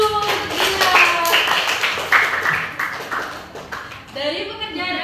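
A classroom claps for a student, with scattered hand claps and taps mixed in with children's voices talking and calling out over the top.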